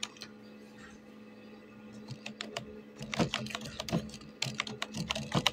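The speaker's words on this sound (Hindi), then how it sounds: "हम उर्दू में टाइप करेंगे।" Typing in Urdu on a computer keyboard: close, crisp key clicks that start sparse and then grow into quick irregular bursts with no voice.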